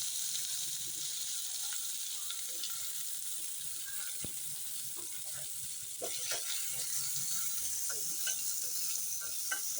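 Onions sautéing in hot oil with fennel seeds for a prawn gravy, a continuous bright sizzle with scattered clicks of a spoon stirring through the pan, no voices.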